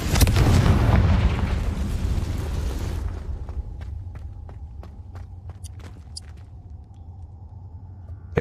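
Confringo spell explosion in a Hogwarts video game, a loud rumbling blast that fades over about three seconds, followed by quieter rhythmic footsteps over a low background hum.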